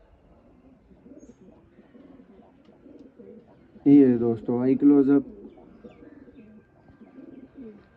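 A pure Sialkoti Sharmila pigeon gives a loud, close burst of throaty cooing in a few pulses lasting over a second, with someone talking quietly before and after.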